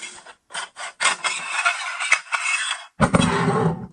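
A magazine tube part slides off a Benelli M4 Gen 2 shotgun with a run of close metallic clicks, scrapes and rattles, ending in a louder grinding slide, with no voices.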